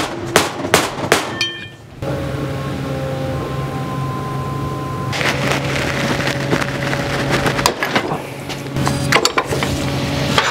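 Sharp metallic impacts from punching out the front main bearing of an RB26 engine, a few quick hammer strikes at the start, then a steady hum and a later burst of clustered knocks.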